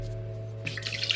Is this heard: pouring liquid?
yes